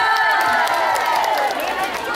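At a dangdut show held at a wedding in Sidrap, a dense crowd cheers and claps loudly and continuously, with shouts and whoops mixed into the roar.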